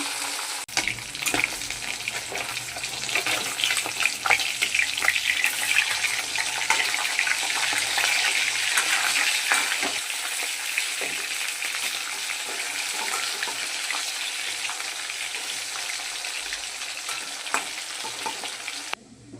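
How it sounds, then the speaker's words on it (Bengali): Rohu fish pieces frying in hot oil, a strong, steady crackling sizzle with occasional stirring clinks, continuous across the whole stretch. "তেলটা গরম হয়ে গেছে। এবার আমি মাছগুলোকে একা একা ছেড়ে দিচ্ছি। মাছগুলো ভেজে নেবো আমি"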